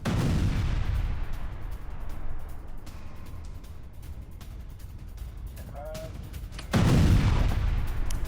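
Heavy bombardment explosions in southern Lebanon: a deep, rumbling blast at the start fades slowly, and a second loud boom strikes near the end.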